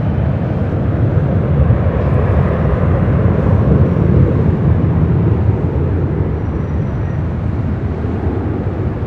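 A jet airliner takes off from runway 24 left at LAX, a loud, steady broadband engine roar that holds close and constant throughout, with no voices.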